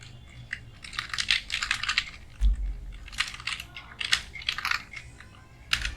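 Typing on a computer keyboard while entering text in Excel, with rapid bursts of close, crisp key clicks separated by brief pauses and one low thump.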